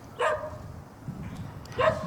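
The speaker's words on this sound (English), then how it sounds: "So the dog's barking, very focused" A dog barks at a fence line twice, a sharp near bark at the start and another near the end, with faint rustling in the quiet gap between.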